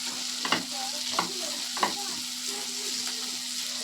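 Grated ginger and chopped onion fry in a pan for a rohu fish dish, giving a steady close sizzle broken by a few scraping strokes of a spoon stirring.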